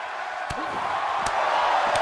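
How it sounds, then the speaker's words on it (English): A dense crowd roars continuously in the arena of the WWE 2K23 wrestling game during a playoff match, with a few sharp slam-like thuds cutting through the steady cheering. "The sound of this crowd is deafening"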